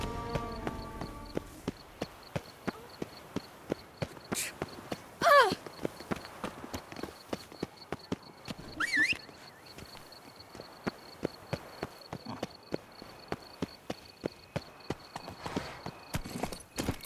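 Roach, Geralt's horse in The Witcher 3: Wild Hunt, Blood and Wine, gallops with a steady, rapid clip-clop of hooves throughout, close and distinct, with a couple of brief louder swells and no talking.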